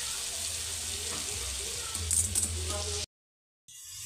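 Water poured into a pan of chicken gravy as it cooks, giving a steady hissing, sizzling wash for about three seconds before the sound briefly cuts out.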